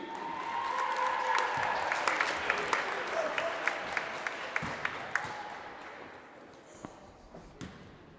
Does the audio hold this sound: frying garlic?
no